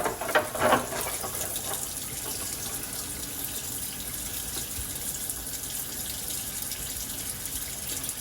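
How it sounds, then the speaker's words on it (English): A running tap pours water steadily in a sink while Minimoog synthesizer key caps are rinsed before brushing with a nylon brush; a brief splashy burst comes near the start, then a constant faint hiss of flowing water. "So I'm gonna rinse them off here and brush them with the nylon brush"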